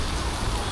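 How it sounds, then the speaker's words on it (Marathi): Heavy monsoon rain pouring down near Belapur station in Mumbai, a dense, continuous hiss of drops with no gaps, close and fairly loud. "जामच जोरात पाऊस पडतोय."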